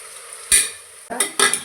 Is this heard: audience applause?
no